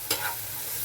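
Chopped onion, green chili and capsicum hit a hot tawa, giving one brief sizzling burst followed by a low, steady frying hiss with a faint stir, close and alone.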